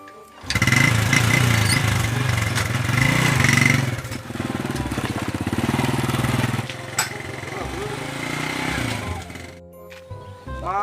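Motorcycle engine running nearby, a loud buzzing putter that revs, dips and idles unevenly over several seconds before cutting off, with people talking in the scene.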